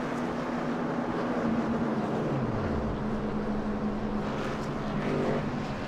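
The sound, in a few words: race car engines at Pocono racing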